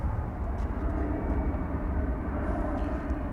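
Airliner arriving from Salt Lake City onto a runway at DFW Airport at night, a steady broad low engine roar that holds even throughout, distant but full, with no talking.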